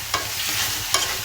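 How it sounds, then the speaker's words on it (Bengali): Onions fry lightly with ginger-garlic paste for a dim sundori egg curry, giving a steady bright sizzle broken by two short stirring scrapes. "আদা রসুন পেস্ট করে ভেজে নেব হালকা"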